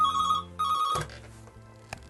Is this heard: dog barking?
no